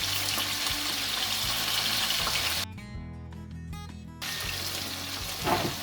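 Chicken skewers frying in a pan, a steady dense crackling sizzle that runs continuously, briefly dipping quieter for a moment before resuming at full strength.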